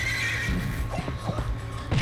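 A horse in the video game The Dishwasher: Vampire Smile neighs close and loud, a short whinny with quavering rises and falls, with faint hoof-like clopping and other game sounds behind it.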